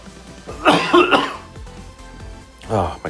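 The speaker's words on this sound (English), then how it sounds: "Oh, my cough is just like" A person coughs in short harsh bursts during a Pokémon card game session, two loud clusters of coughing close to the microphone with a brief gap of quieter breathing between them.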